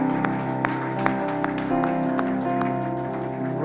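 Applause from a worshipping congregation in a French-speaking church fills the space alongside sustained organ-like music, with sharp individual claps punctuating the steady background.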